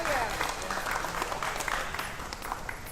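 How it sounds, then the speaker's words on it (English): An audience claps steadily in a dense, continuous wash through a Jacinto City federal infrastructure funding announcement, with a voice speaking over the applause. "Give her a very big applause."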